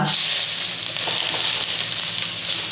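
Neem leaves dropped into hot oil in a pan for Mangalore-style chicken pepper, giving a loud, steady, close crackling sizzle that holds for a few seconds with no voice.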